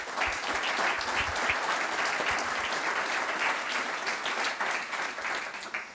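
An audience at a national biochar conference claps after a round-table session, with sustained, lively applause at an even level and a few sharper claps standing out near the end.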